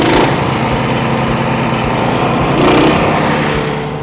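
A gas-engine wood chipper roars steadily after being throttled up all the way, a loud continuous engine drone with a brief surge near the end and no talk.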